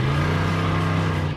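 Cadillac 4.1 liter V8 engine idling and revving steadily, loud and close with a deep, rough hum that holds for the whole moment.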